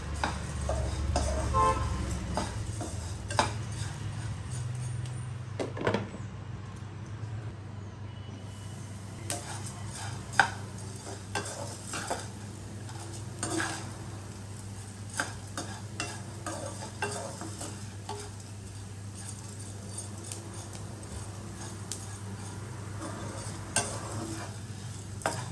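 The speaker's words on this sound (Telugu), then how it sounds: "మధ్య మధ్యలో ఇలా కలుపుకుంటూ ఉంటండి" Sorghum grains crackle and pop in a hot pan while a spoon stirs them now and then. Soft scraping and sharp little pops and clicks sound close against a low steady hum, with no voices.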